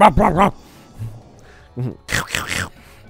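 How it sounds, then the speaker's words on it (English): Chain Chomp barking in the Paper Mario video game, a series of short, loud yapping barks at the start, then a pause and another burst of barks near the end. "I miss the barking of those chain chops."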